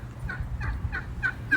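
Farm ducks call in a steady run of about five short, nasal quacks at a moderate distance, repeating roughly every third of a second over a low, continuous outdoor rumble.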